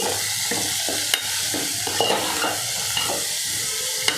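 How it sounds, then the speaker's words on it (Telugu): A pan of carrot curry with tomato pieces, salt and a little turmeric is stirred, the spoon scraping and clacking against the pan in repeated strokes over a steady low sizzle, close and moderately loud. "టమాటా ముక్కలు సాల్ట్ అండి కొద్దిగా పసుపు కొద్దిగా వేసిన తర్వాత మొత్తం ఒకసారి కలిపేద్దాము"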